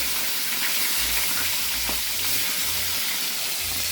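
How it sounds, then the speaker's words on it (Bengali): Fish frying in hot oil in a home kitchen: a steady, loud, broadband sizzle and hiss that carries on without a break and with no voices. "তেল গরম হয়ে গেছে, মাছগুলো ছেড়ে দিই।"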